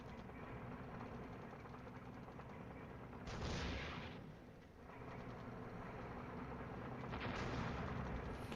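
Gunfire and artillery in the wargame Flashpoint Campaigns, a continuous rumbling barrage with louder bursts near three and seven seconds, steady throughout.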